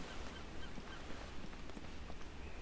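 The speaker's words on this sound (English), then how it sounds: "Sorry if you can hear the birds." Noisy birds, most likely geese, honk outdoors at a distance, their faint, scattered calls repeating over a steady wash of background noise with no talking.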